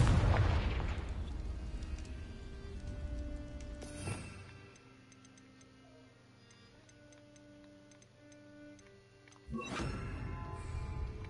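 Confringo fire spell from Hogwarts Legacy: a deep booming explosion at the start and another near the end, loud against a quiet, steady ticking between them.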